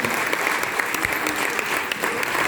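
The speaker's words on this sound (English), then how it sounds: "And a big round of applause" Sustained, dense applause from an audience after a Windrush lecture by Diane Abbott MP, steady and fairly loud throughout with no speech over it.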